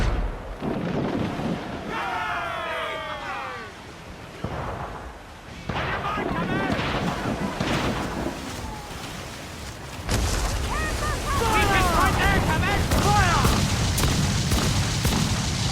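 Naval mortar and cannon fire in Assassin's Creed IV Black Flag, booming blasts at sea amid wind and crashing water, with shouted crew voices over a continuous roar that swells louder in the final seconds.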